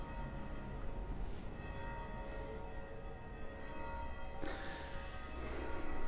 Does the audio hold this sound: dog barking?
no